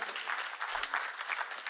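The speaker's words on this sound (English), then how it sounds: "Give him a round of applause." Audience applause at a community meeting, a steady patter of many hands clapping at moderate, somewhat distant level with no voices over it.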